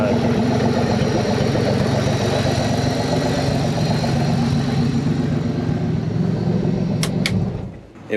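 A Pontiac Fiero engine, just repaired, idles steadily close by with a constant low rumble and mid-range hum, then trails off near the end with a couple of brief sharp clicks.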